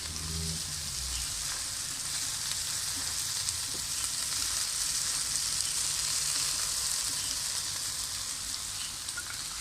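Spinach and egg fry in a pan with a loud, continuous bright sizzle that holds steady throughout, close up and without talk.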